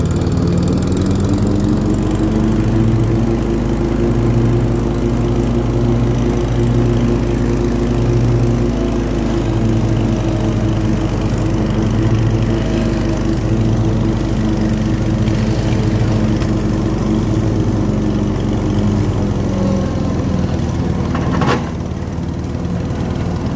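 A riding lawn mower engine runs steadily and loud close by, droning with a slight rise and fall in pitch, then a brief clatter near the end.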